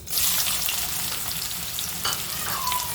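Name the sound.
chillies frying in oil for okra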